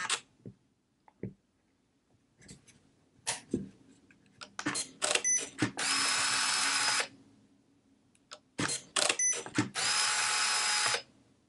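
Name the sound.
medium format camera powering on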